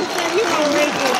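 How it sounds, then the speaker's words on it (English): Round of applause from diners at a Veteran's Day gathering in Manistee, loud continuous clapping with a voice rising through it over a brief span. "How about a round of applause also for the waiters and the waitresses and the cooks that brought all that lovely food out."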